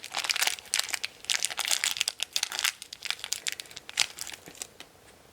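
A plastic Shopkins Real Littles blind bag is snipped open and handled up close, giving dense, bright crinkling and crackling in quick, uneven bursts, with no talking.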